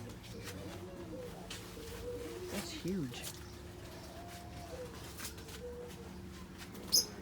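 Soft cooing and calls from caged birds, including lovebirds, during a bird-testing visit, heard at moderate distance under frequent conversation from people standing nearby.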